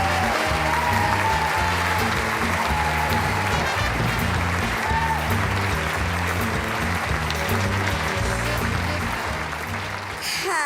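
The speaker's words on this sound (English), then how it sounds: "Please put your hands together in welcoming Lauren Potter" Sustained audience applause at a 2013 Arc gala dinner in Minneapolis, welcoming former Glee cast member Lauren Potter to the stage; dense, steady clapping from a large crowd holding loud for about ten seconds, easing slightly toward the end.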